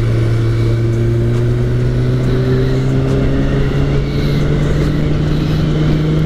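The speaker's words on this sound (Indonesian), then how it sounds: "Akselerasi motor ini pastinya sangat oke." A Kawasaki ZX636 motorcycle accelerates, its loud, continuous engine whine rising steadily in pitch over several seconds with no one talking.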